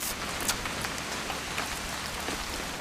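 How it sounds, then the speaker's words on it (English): Rain falling steadily on a surface in the video game What Remains of Edith Finch, with scattered drops pattering, moderately quiet and even throughout, no talking. "It's gonna rain the whole weekend, isn't it?"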